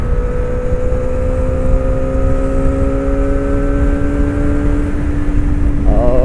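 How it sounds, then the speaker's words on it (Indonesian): A Kawasaki ZX25R motorcycle engine holds a high, steady whine that climbs slowly in pitch as the throttle is held open, loud and close, then breaks into a quick rev at the end. "Kita coba gas apa ini ZX-nya"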